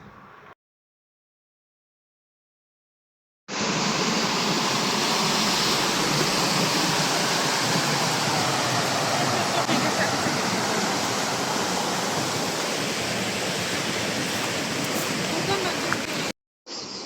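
The Hakari river in Lachin flowing with a dense, steady rush of water, loud and close, starting abruptly after a brief pause and running unbroken before cutting off.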